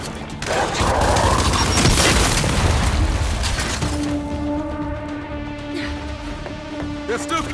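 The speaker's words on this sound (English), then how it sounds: "Throwing frag!" A frag grenade explodes in Gears 5 with a loud, broad blast that decays into rumbling debris and ongoing combat noise, followed by a sustained tonal hum.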